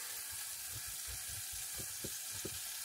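A big knob of butter sizzling in a frying pan on a gas stove in a VW T5 camper van, a steady soft hiss with small irregular pops and crackles.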